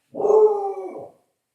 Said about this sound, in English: Whoops, I got my doggy barking.